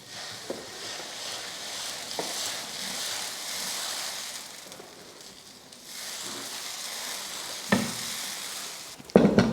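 Dosa batter hits a hot, well-heated dosa griddle and sizzles. A steady, moderate frying hiss runs throughout, with a few soft clicks and a sharper clatter near the end.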